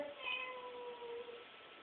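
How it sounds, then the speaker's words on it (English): A cat meows softly in a short, drawn-out call, faint against a quiet indoor background with no talking. "It's my cat."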